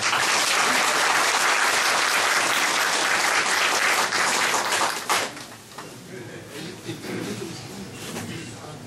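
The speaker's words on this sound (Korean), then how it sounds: "뜨거운 박수 함성으로 다시 한번 후보자를 맞이해 주시기 바랍니다" Loud, dense applause and cheering fill a political party rally hall welcoming a candidate, sustained for about five seconds before thinning into scattered clapping and crowd murmur.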